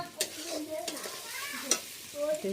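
Meat frying in a pan with potatoes and spices, heard up close as a soft sizzle broken by a few scrapes and clinks of stirring.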